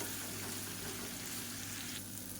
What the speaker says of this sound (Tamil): சேர்த்துட்டு இதை வந்து வறுத்து எடுத்துக்கலாம் தனியாக